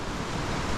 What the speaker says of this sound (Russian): Вот он течет, такой вот водопадик.